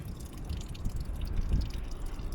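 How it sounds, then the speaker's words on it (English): Water dribbles steadily out of a drained boat's bung hole, a faint, continuous trickle with small irregular drips throughout, heard close with no voices. "the water's dribbling out now"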